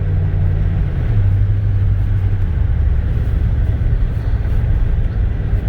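A 1992 Ford F-150 XLT with a 302 V8 running on a test drive, a loud continuous low cabin rumble with a steady engine drone that shifts pitch slightly early on.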